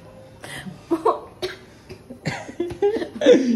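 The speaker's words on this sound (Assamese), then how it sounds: "এতিয়াই কাহি গৈছে" A person coughs several times in short, rough bursts with a bit of throat clearing between them; nearby and fairly loud.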